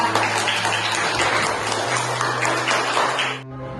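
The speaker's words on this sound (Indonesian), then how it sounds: "tepuk tangan ya." A short burst of clapping from a group of students fills the classroom, then cuts off abruptly near the end.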